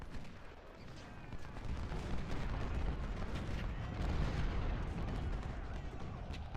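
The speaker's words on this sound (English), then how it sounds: "Artillery's doing its job, inflicting pretty heavy casualties." Artillery batteries firing in the Civil War strategy game Ultimate General: Civil War, a dense continuous rumble of distant cannon fire and musketry rolling on steadily at low volume.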